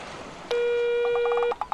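A single long electronic voicemail beep holds steadily for about a second, followed by a few short tonal blips and clicks, alone over faint background hiss.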